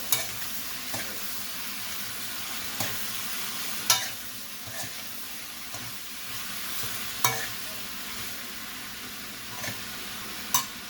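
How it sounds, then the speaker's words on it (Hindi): Pasta frying and being stirred in a pan: a steady sizzle runs throughout, broken by periodic scrapes and clacks of the utensil against the pan. "इसे 5 मिनट फ्राई कर लेंगे हम। इसमें पास्ता शामिल करेंगे हम।"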